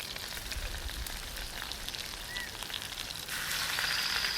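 Barracuda fish laid into a hot clay pot tagine, giving a steady, close broadband sizzle that swells louder toward the end, with no talking.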